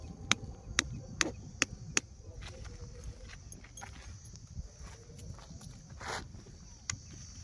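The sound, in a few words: hammering tent pegs into ground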